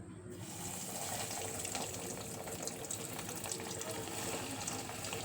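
Breaded chicken cutlets dropped into hot oil in a wok, producing a loud continuous broadband sizzle that holds steady from start to finish with no talking.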